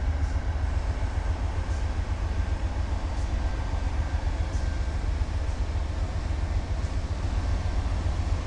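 An intermodal freight train rolls past at Oyama Yard, North Carolina, giving a loud, steady rumble with rhythmic wheel clatter that holds unbroken from start to finish.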